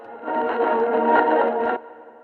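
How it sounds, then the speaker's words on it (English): Granular synth patch in Arturia Pigments with an overdrive effect, a dense, gritty sustained texture that swells in, holds steady for about a second and a half, then cuts off into a faint tail. "Maybe some overdrive."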